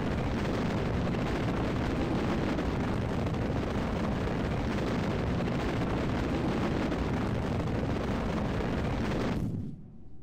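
A loud video game explosion roars as a sustained broadband rumble for about nine seconds, then cuts off abruptly into near silence.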